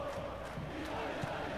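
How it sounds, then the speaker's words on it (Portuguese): Palmeiras supporters chant together in a packed stadium during a PES 2017 football match, a faint, steady crowd roar with a rhythmic singing swell that carries through the whole short stretch. "Olha essa torcida do Palmeiras, velho. Olha o canto."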